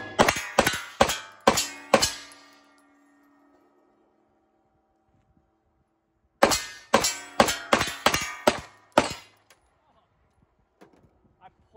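Pistol fire from a handgun fitted with Grit Grips at an outdoor range: one burst of about six sharp shots, each ringing off a steel target, then a pause and a second string of about seven, loud and close.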